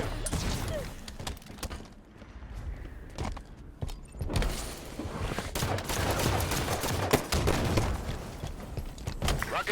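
Enemy gunfire in a video game: rapid bursts of shots and impacts crowd the scene, loud and dense, easing briefly before resuming with sharp cracks and mechanical clatter.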